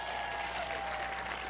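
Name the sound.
applause at a graduation ceremony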